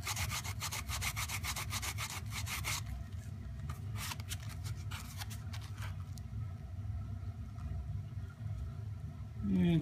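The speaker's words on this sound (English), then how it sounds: "Hit it a couple times with some Scotch-Brite" A Scotch-Brite pad rubs back and forth along the edge of a card scraper in a steady series of close, scratchy strokes, then falls into a quieter rasping before a brief louder scrape at the end.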